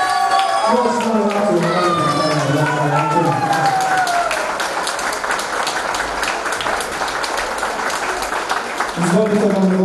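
Wedding guests at a Bosnian wedding party applaud in a dense, sustained burst of clapping. It swells under music and an announcer's amplified voice, then fades as the talking returns.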